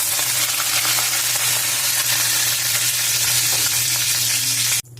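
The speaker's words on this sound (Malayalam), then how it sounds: "ഇനി അതിലേക്ക് അല്പം കടുക് ചേർക്കണം" Mustard seeds sizzle and crackle in hot cooking oil in a pan, a loud, steady, close frying hiss with scattered pops that runs unbroken before cutting off abruptly near the end.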